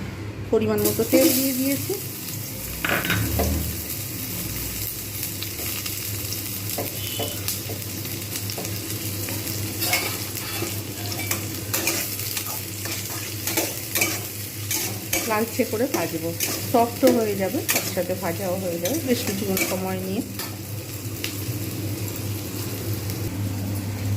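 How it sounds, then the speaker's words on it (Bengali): Onions fry in a kadai (wok) right after omelettes were fried, with steady sizzling and repeated stirring and scraping throughout, close and loud; a voice speaks briefly at times. "এবার এই কড়াতেই আমি পেঁয়াজ ভাজবো"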